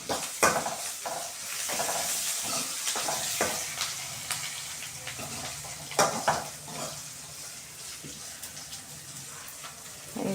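Vegetables with a little salt sautéing in a pan, a steady sizzle broken by repeated clinks and scrapes of a spatula stirring, fairly close and moderately loud, no speech.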